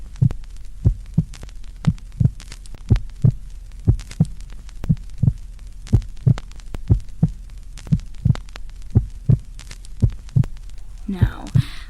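A slow, steady heartbeat thumps loud and close as a creepypasta sound effect, about twenty beats in even rhythm, with a brief breathy sound at the very end.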